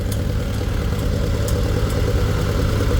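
A Farmall 140 tractor engine runs steadily at a show, a loud, continuous low throb with faint periodic clicks on top, no talk over it.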